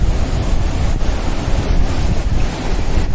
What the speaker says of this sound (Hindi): पुल के नीचे से बह रही है अलकनंदा नदी